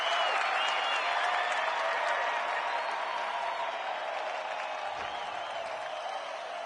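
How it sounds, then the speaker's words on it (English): Stadium crowd noise in the AFL26 football video game, a steady, dense roar of cheering and applause that stays fairly even throughout and carries on without commentary. "The crowd noise tells you all you need to know."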